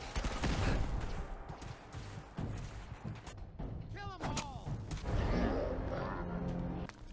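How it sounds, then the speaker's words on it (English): Gunfire from gunners attacking a player's house in Fallout 4: dense bursts of shots and booming impacts, loud and close, with chaotic overlapping blasts and bits of voice mixed in. "a bunch of gunners attacked my house"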